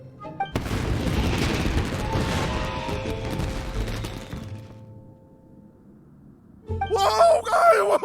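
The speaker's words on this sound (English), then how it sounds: "Yoimiya, this is turning into a bit of a fireworks display." Fireworks explode in Genshin Impact: a heavy booming burst with crackling debris that fades out, then a bright sparkling crackle of further bursts rising at the end.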